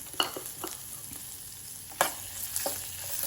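Curry leaves crackle as they fry in oil for garlic rasam, a soft steady sizzle broken by a few sharp pops and spits, heard close up and with no talking.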